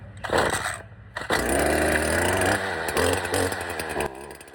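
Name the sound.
free gas weed eater engine starting up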